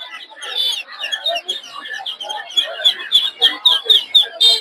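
Small ducklings, Chinese and Belgian breeds, for sale at a poultry market, peeping in rapid, high, overlapping chirps that grow more rhythmic and insistent, close by, with market bustle in the background.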